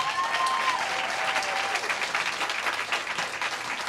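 An audience claps steadily throughout at a county board of education meeting, dense sustained applause filling the room with faint crowd murmur beneath.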